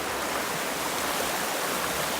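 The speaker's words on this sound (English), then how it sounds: "this is the Bellinger River coming down out of this gully here" Bellinger River running down out of a gully in New England wilderness, a steady close rush of flowing water that stays even and continuous throughout with no voices.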